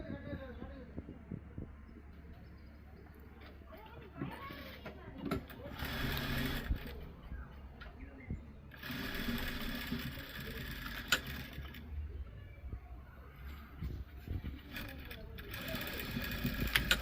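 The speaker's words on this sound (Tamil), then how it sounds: "ஃபுல்லாக இப்படி மடித்து தைப்போம்" A sewing machine stitches folded lehenga fabric in several bursts of rapid mechanical whirring, with pauses between runs and a person talking over much of it.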